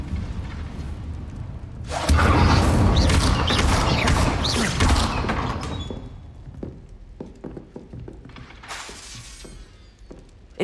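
An Incendio fire spell in Hogwarts Legacy erupts as a loud whooshing, crackling blast that roars for a few seconds, then fades into scattered crackles, with a second brief flare near the end.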